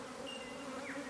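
Honey bees drone steadily in a continuous close buzz around a beehive frame dripping with honey, a thin higher whine sliding across the hum.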